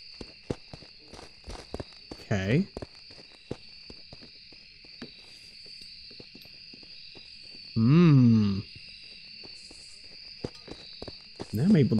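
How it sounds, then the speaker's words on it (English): Ghost footsteps during a hunt in the Phasmophobia video game, a faint run of soft, irregular steps ticking away in the background, broken by a few brief louder bursts of other noise. "Able to hear the footsteps the whole way."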